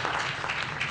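Seminar audience clapping in a hall, a dense steady wash of many hands applauding together for the full second with no pause.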